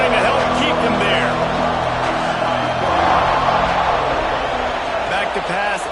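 Football stadium crowd at a Texas versus Texas A&M game, a broad, steady roar filling the background under continuous commentary.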